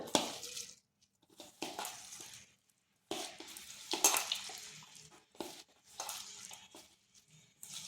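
Onion slices being rubbed and squeezed by hand with salt in a bowl, producing soft, intermittent crunchy squelching and scraping bursts separated by brief pauses, close and fairly quiet, with no talking.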